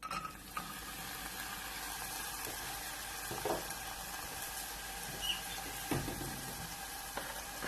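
Peppers and onions cook in hot oil in a pan for a cheese steak ramen, a quiet, steady sizzle broken by occasional soft stirring clicks and scrapes.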